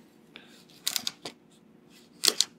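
A knife slices mushrooms into strips on a cutting board for vegan holiday stuffing, giving a few faint, sharp taps in two small clusters against a quiet kitchen background.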